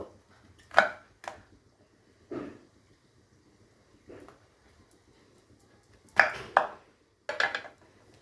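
A knife slices large pointed gourds (potol) into three pieces each for a curd-based potol dish. About seven crisp, close chops land on a board in irregular bursts, with quiet gaps between them and no talking.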